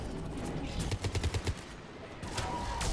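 Rapid gunfire bursts in Mass Effect 3 combat, a quick rattling volley of shots mid-clip amid loud noisy battle ambience.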